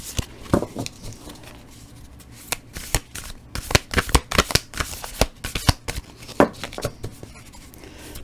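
Tarot cards being shuffled by hand in close, crisp bursts of riffling and slapping, repeated in an uneven rhythm throughout with no talking.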